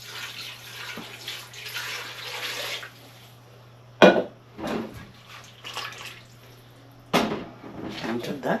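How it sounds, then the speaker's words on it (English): Warm water is poured into a pressure cooker holding pig trotters, giving a near, steady splashing and trickling stream with a few sharp clunks, while a person talks over it. "So guys, I'm going to add some water."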